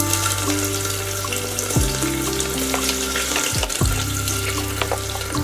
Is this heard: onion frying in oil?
yes